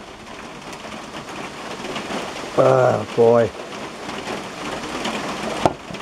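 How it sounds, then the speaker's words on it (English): Steady rain patters on a tin roof over a pond, a constant hiss running throughout, broken midway by two short bursts of a louder, tonal sound and a brief sharp tap near the end; a voice speaks briefly. "listening to the rain on the tin roof"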